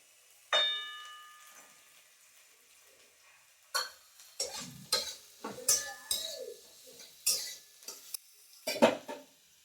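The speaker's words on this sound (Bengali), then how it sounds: "পেঁয়াজটা দিয়ে দিচ্ছি" Chopped onion sizzles in a hot pan while being stirred, with repeated scraping and clinking strokes of a spoon against the metal, close and moderately loud, with no talking.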